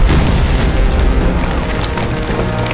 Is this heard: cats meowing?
no